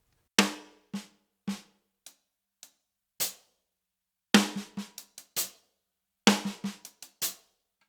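On a drum kit, a sextuplet groove alternates strokes between snare and hi-hat. Crisp, close strikes come in short clustered bursts with gaps, some hits accented louder than others.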